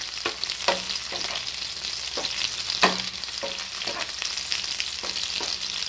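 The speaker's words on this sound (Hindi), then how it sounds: "इसके साथ ही मैं ये ऐड कर रही हूँ 5 अदद ग्रीन चिली, इनको भी मैं फ्राई करूँगी थोड़ा सा।" Green chilies frying in a pan for a mixed dal, with a steady bright sizzle broken by several sharp spoon knocks and scrapes as the pan is stirred, no voices.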